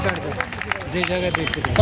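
A short burst of audience clapping at a packed Buddhist teaching session, many hands striking together in a brief, uneven patter under faint background voices.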